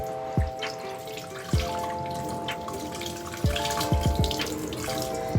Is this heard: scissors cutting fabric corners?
no